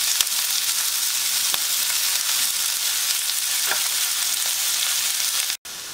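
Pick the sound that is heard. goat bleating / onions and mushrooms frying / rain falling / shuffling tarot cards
onions and mushrooms frying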